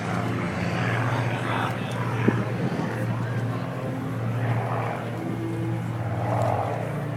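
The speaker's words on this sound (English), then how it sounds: "the Dauntless, the Avenger, and the Corsair will taxi by." WWII Navy propeller planes, a Dauntless, an Avenger and a Corsair, taxi at the California Capital Airshow, their engines a steady low drone heard under an announcer's voice.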